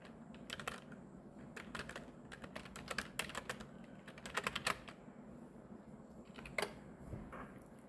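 Bursts of clicky computer keyboard typing as text is entered in design software, irregular clusters of keystrokes over a faint room hum, close and fairly quiet.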